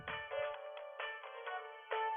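A phone chimes with an incoming text message notification, a bright electronic tone with a few pulses that repeats over about two seconds, close and clear, with no talk.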